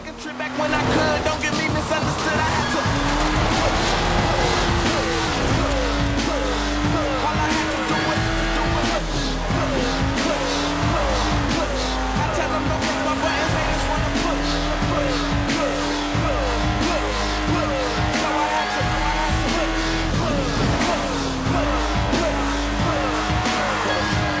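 A Lotus sports car in the Forza Horizon 4 racing game drives hard. Its engine drone rises and falls continuously while tires squeal and skid through corners, loud and close throughout.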